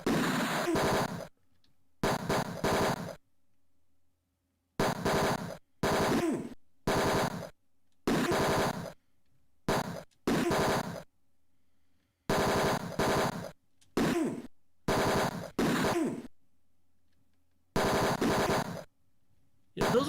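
Bursts of rapid gunfire from the retro PC game Tex Murphy: Mean Streets, about a dozen loud clipped volleys separated by short silences, with no talking.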